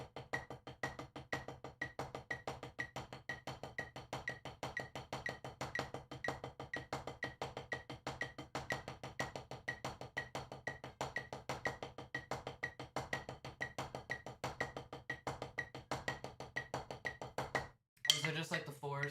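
Rapid, even snare drum strokes roll on steadily for nearly twenty seconds in an accent exercise, with regularly spaced louder accents; a voice briefly cuts in at the very end.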